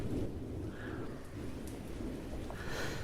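Storm ambience of steady rain with low rumbling thunder, a continuous wash kept quietly in the background of a live Fighting Fantasy game session.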